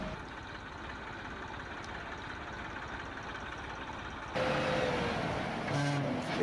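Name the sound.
trucks and machines arriving at silage site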